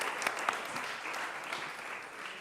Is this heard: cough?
no